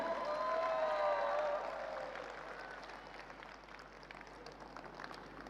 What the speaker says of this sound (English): One big round of applause for Mr. Wenceslav Zlatkov, the CEO of One Ecosystem.